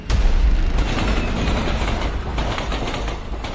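A speeding mail train rushing past close by, a loud broadband roar of wheels and rails with sharp clattering bursts, sustained throughout without voices.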